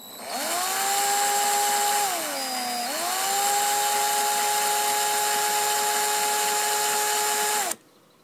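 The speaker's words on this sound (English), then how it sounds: "I'm just letting the wire drag the drill" A power drill twisting Kanthal wire whines steadily for several seconds, its pitch dipping briefly under load before holding level, then cutting off abruptly.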